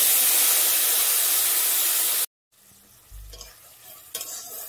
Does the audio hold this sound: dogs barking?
no